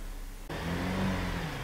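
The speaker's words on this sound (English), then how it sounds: "Look at the immediate response on the engine RPM there too." A car engine revs up sharply from a quiet start and holds a steady mid-pitched drone, read through an inexpensive ELM327 diagnostic scanner, alone and fairly near.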